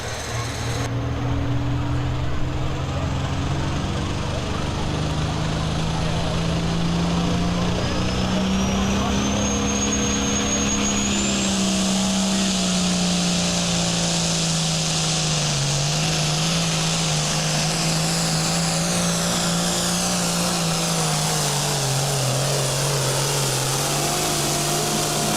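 A modified pulling tractor at a Shopiere Days tractor pull holds a loud, sustained high-rev engine roar for the full run, its pitch sweeping up and down with load, while an announcer talks over it.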